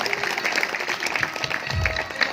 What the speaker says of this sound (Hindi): जोरदार ताली इस वक्तव्य के लिए